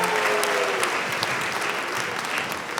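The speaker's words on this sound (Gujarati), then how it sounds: "તાળીઓ થઈ જાય એમના માટે" A live comedy show audience breaks into loud, sustained applause for the guests, thick clapping from a large crowd, with a brief voice trailing off at the start.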